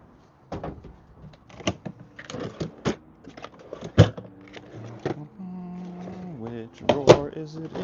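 Storage drawers in a storage unit being pulled open and pushed shut while someone hunts for nails, a string of sharp knocks, slides and clunks amid a voice talking.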